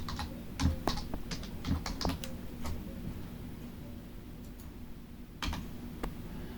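A computer keyboard is typed on to enter a title in a Windows calendar program: soft, irregular key clicks in short bursts with pauses, quiet and close.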